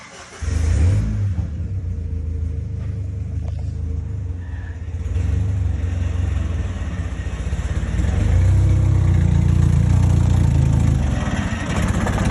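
A 1994 Ford Ranger pickup truck engine rumbles steadily from inside as it drives on a test drive after a transmission swap, revving up and growing louder toward the end.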